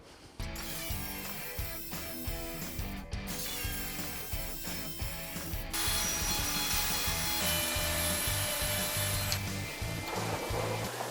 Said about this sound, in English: I can cut a slot that is exactly 23/32 of an inch